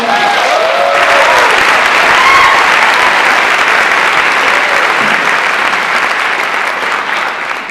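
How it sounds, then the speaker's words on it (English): A large lecture audience breaks into loud, sustained applause, a dense wash of many clapping hands close and full, with a few faint vocal cheers early on, tapering slightly near the end. "I want to give a big round of applause"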